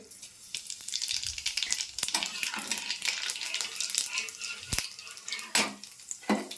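Dried red chilies and nigella seeds hit hot oil in a pan for a Bengali tempering, a loud, close sputtering sizzle with several sharp crackling bursts and utensil knocks, with no talk.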